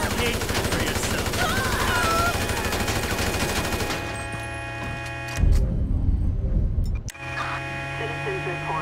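Gunfire in the video game GTA 5, a rapid rattling burst of shots in the city, loud and dense for several seconds before cutting out, followed by heavy thumps and a voice over game hum.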